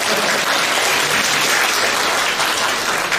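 Loud, dense applause fills a Deyun She comedy show audience's hall, a steady wall of clapping from a large crowd with no voices over it.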